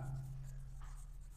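Pen moving on paper during a seventh-grade maths lesson, faint close scratching strokes over a low steady hum, without talk.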